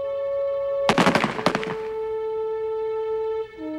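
A firing squad fires a ragged volley of rifle shots at a French military execution, a brief cluster of sharp cracks over a steady background tone that continues after the shots.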